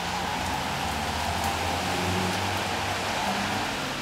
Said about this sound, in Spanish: Vamos a escuchar la lluvia desde el otro lado.